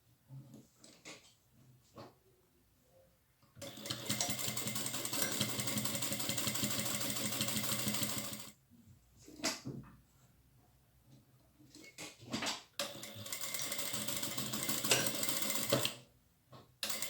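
A domestic sewing machine stitches a fabric makeup bag along marked edges, running in two long steady bursts with short stop-start runs and quiet gaps between them.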